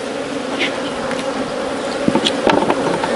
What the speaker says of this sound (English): Shake the bees through it.